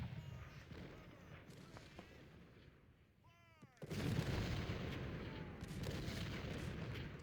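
Civil War cannons in the Ultimate General: Civil War game are bombarded, giving a rumbling barrage of booms and thuds that fades quieter midway before swelling back into a dense, loud roll of fire.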